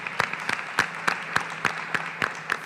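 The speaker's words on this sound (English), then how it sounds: "can we give them a round of applause?" Audience applause at a school business idea event: a small, evenly spaced run of hand claps, fairly faint and steady, with no talking over it.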